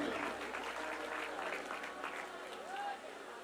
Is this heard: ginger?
no